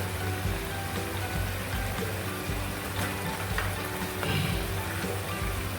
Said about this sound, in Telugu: ఉల్లిపాయ పేస్ట్ మొత్తం మనం కొంచెం వేగుతుంటుంది కదా